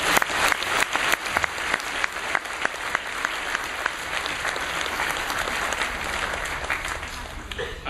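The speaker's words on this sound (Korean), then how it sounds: "우리 한번 박수로." A church congregation applauds warmly and steadily with dense clapping throughout, and a few voices can be heard underneath.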